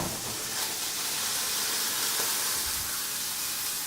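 Sausages browning in a pan for gumbo give a steady, even hiss across the whole stretch, close and constant with no talking over it.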